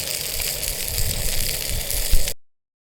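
Food sizzles and crackles steadily on a Camping Gas barbecue at a campsite, a loud close hiss with faint rattles, ending abruptly in silence.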